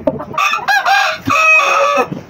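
A rooster crows loudly and close by in one long, strained call, with a few faint clucks before and after it.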